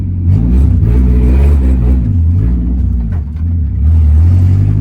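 A Nissan S14 drift car with an open differential revs repeatedly while stuck, its engine surging up and down in loud close bursts with wheelspin rumble.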